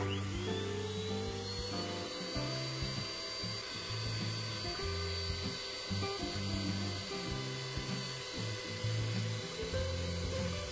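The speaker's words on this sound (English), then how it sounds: "I switched out the mixer tool for the beaters. And now the egg whites are really going to fluff up now." An electric mixer fitted with beaters whips egg whites, giving a steady, continuous motor whine with rhythmic rattling of the beaters against the bowl, loud and unbroken throughout.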